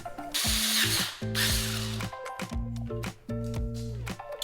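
Close power drill boring a 1/4-inch hole in short bursts, its whine starting and stopping several times with brief pauses, no one speaking.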